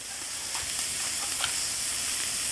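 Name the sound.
hot sausage burgers sizzling on a charcoal grill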